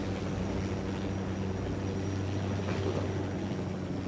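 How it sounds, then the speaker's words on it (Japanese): Cartel helicopter flying in the video game Ghost Recon Wildlands, a steady droning rotor and engine hum with a faint broadband whoosh, continuous and moderately distant, with no voices. "今チェックしたところにカルテルのヘリ。"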